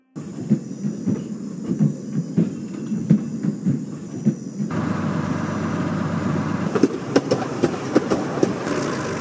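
A moving train in a video game rumbles and clatters with rhythmic clickety-clack wheel beats over a steady hum, shifting to a denser, louder roar partway through, with no talking.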